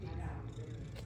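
A pet cat lying in his box purrs softly and steadily up close, a low continuous rumble at a quiet level with a faint voice murmuring nearby.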